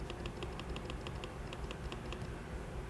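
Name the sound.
regular clicking of an iMac trackpad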